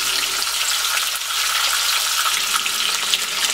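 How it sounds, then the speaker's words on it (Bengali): Koi fish (climbing perch) frying in oil in a pan gives a steady, dense sizzle and crackle throughout, loud and close, with no talking. "তো এখন আমি মাছটাকে ভেজে বাকি প্রসেসটা করে নিচ্ছি"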